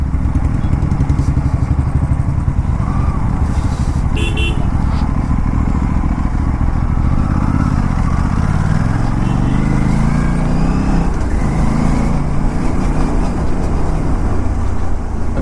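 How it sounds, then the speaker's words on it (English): Heavy traffic jam on an expressway, with motorcycle and car engines idling and revving close by, a steady dense drone throughout and occasional horn tones. "Suddenly there is so much traffic jam on this expressway."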